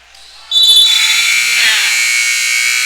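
A basketball game's halftime buzzer sounds in a gym, one loud sustained electronic tone lasting over two seconds amid crowd noise.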